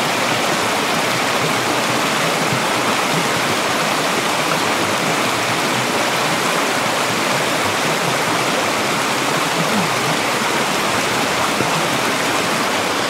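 Rushing water of a stream in Scotland pours and churns in a loud, continuous broadband roar that stays steady and close, with no voices.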